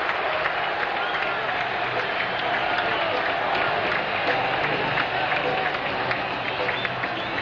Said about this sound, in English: The noise is for nobody but Eddie Jones.